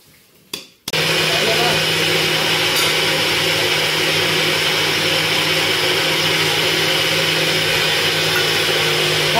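A mixer grinder switches on after a brief pause and grinds a wet spice paste for prawn khichdi, a loud, steady whirring roar that runs without break to the end.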